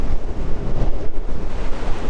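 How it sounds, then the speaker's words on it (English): Strong wind buffets the microphone while riding an electric skateboard with suspension on a smooth outdoor road, a continuous loud roaring rush filling the whole clip with no talk. "A bit windy."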